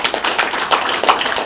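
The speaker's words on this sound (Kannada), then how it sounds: "ಜೋರು ಚಪ್ಪಾಳೆ ನಮ್ಮ" Loud, dense applause from a seated audience at a business event, continuous clapping with a few sharper bursts, no voices over it.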